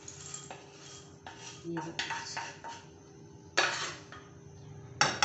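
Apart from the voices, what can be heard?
roasted chickpeas put into a bowl, dishes clinking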